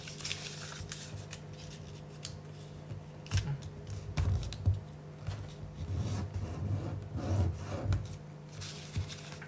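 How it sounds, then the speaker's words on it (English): A paper dollar bill being folded into an origami scorpion gives close, soft crinkling and rustling with occasional sharper creasing bursts, with no talking. "we fold this in on the center line on both sides"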